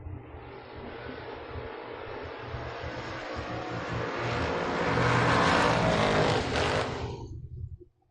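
Drag race cars launch side by side with Kevin Render facing Ray Barlow's Mustang at a drag racing event, a loud sustained engine roar that swells to a peak before cutting off abruptly at the end.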